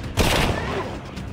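Burst of rapid gunfire from a gun in the video game Saints and Sinners, a loud sharp volley that decays over about a second.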